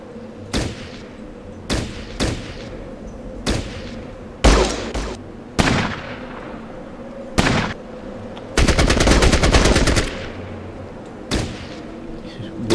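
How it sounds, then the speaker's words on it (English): Automatic weapons fire in the turn-based combat game Fallout Tactics, heard as sharp isolated gunshots spaced a second or two apart, plus one dense sustained burst of rapid fire midway, loud and close with no talking. "So you're covered from the automatic fire, but anyone gets too close, and you should be able to shotgun them."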